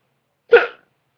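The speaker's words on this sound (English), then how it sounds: "I got the hiccups." A single person's hiccup, one short close burst lasting a fraction of a second, with silence before and after.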